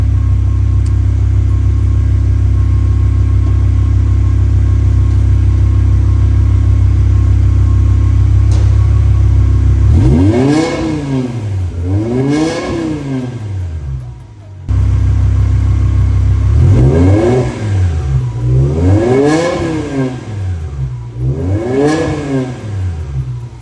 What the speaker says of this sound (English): So let it run for a little while so it's warmed up now. We'll do some revs.